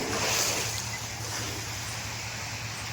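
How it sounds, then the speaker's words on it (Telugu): Heavy flood water rushing at Srisailam dam with its gates open, carrying Tungabhadra and Krishna river floodwaters: a steady, dense roar of churning water with wind buffeting the microphone, no voices. "అసలు మధ్యలో అయితే ఎంత ఫ్లో ఉంది తెలుసా వాటర్"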